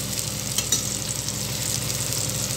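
Seer fish (vanjaram) fries in oil in a pan, giving a steady, close, dense sizzle and crackle that runs unbroken throughout with no talking.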